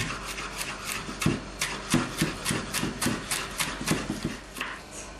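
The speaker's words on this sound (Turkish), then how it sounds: "Maydanozu da kırdık." Parsley, stems included, is finely chopped with a knife on a board: rapid, uneven taps and scraping rubs, close and moderately loud, continuing steadily throughout.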